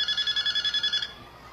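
A telephone rings with a rapid electronic trilling burst lasting about a second, then stops, leaving quiet background.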